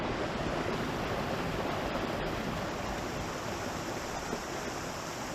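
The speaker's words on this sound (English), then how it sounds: "there's some really cool waterfalls down here" Waterfalls on a creek running high after rain rush in a steady, dense roar with no pauses, fairly faint and even throughout, with no voices.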